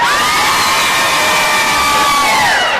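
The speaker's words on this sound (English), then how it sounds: "That deserves an applause" An audience at a main-stage session of the Military Influencer Conference breaks into loud, sustained cheering and whooping. The shouting forms a continuous roar with little other sound.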